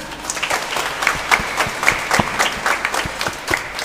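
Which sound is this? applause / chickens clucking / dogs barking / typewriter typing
applause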